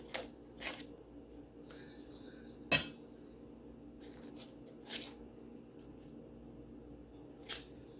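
A knife slicing pats of Imperial margarine, giving a few faint, scattered clicks and taps against a dish in an otherwise quiet kitchen with low steady background hum.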